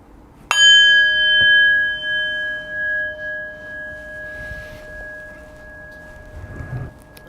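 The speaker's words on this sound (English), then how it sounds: "in just a moment I will ring the bell, ending our second round of meditation" A meditation bell is struck once to close a round of meditation, ringing out with a clear metallic tone that sustains and slowly fades over several seconds. Soft background noise stays underneath and there is no speech.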